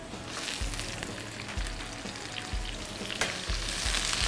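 Ginger, garlic, onion and the white part of spring onion fry in a hot pan, a steady close sizzle broken by regular stirring strokes about once a second.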